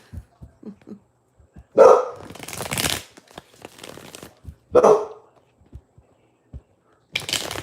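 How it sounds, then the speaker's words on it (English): A dog barks a few times nearby, separate sharp loud barks spaced apart, with soft scattered clicks and rustling between them. "What are you barking at over there, Dylan?"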